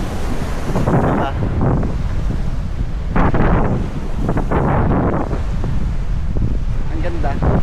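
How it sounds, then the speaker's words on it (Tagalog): Strong ocean waves roll in at Boracay beach, crashing in repeated loud surges under heavy, buffeting wind that roars across the microphone throughout. "Pero malakas ang alon dito."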